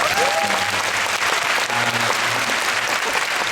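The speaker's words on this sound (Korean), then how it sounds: "위에 계신 분들에게 박수 한번 부탁드리겠습니다." A concert-lecture audience in Los Angeles giving a round of applause, a loud, full wash of many hands clapping steadily throughout, with faint tonal sounds and murmur beneath.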